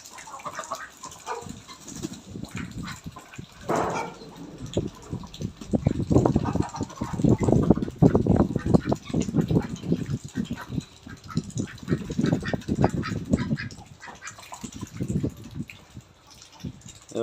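Ducks bathe in water at a garden farm, with irregular splashing and flapping bursts near and fairly loud, and a voice speaking at times.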